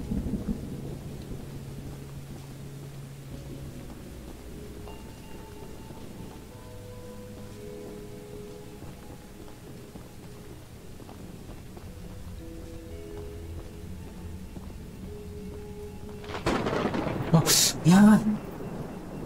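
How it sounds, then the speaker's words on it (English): Thunder in the horror game Choo-Choo Charles: a heavy rumble rolls in near the end over quiet game ambience, while a player talks over it. "Man, the thunder."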